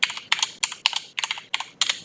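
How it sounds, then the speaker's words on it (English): Quick bursts of keystrokes on a computer keyboard as a password is entered, crisp and close, in short clustered runs with brief pauses between them. "Type in our password."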